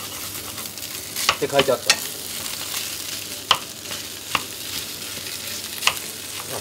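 Day-old sushi rice stir-fried over high heat for a sushi fried rice, a steady sizzle broken by a few scraping stirs of the spatula, with a brief word spoken near the end.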